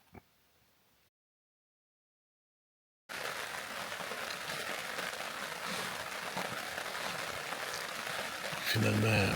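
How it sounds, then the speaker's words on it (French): Intense rain at night at a crown land campsite, falling as a dense steady patter close by on a tent or tarp after a brief faint stretch and silence, continuing loud and unbroken. "Finalement, on a de la pluie plutôt intense."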